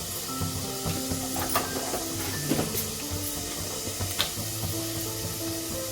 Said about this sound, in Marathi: पावटे चांगले भाजून घ्यायचे ते तेलामध्ये